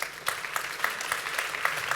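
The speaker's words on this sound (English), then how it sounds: "Please give our panel a big round of applause" A modest conference-stage audience claps for a big data panel at a careers event, with separate hand claps in a loose, fairly quick rhythm, thin and somewhat distant.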